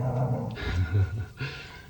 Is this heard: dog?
yes